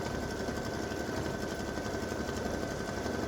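Continuous, fast mechanical whir and rattle of a sewing machine stitching turkey-feather shapes for a Thanksgiving game piece, steady and close throughout with no pauses or voices.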